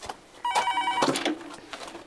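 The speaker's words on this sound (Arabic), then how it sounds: "ما حد يرد على التليفون." A landline telephone in a home rings in a short, clear electronic burst close by, with a lower tone following it and no one speaking.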